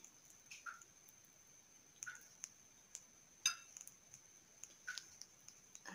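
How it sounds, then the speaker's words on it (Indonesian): Quiet, close stirring of Samyang cheese noodles in creamy sauce, with a few soft sticky squishes and faint clinks of a utensil against the bowl, spaced a second or so apart with no talk. "Kita aduk dulu ya."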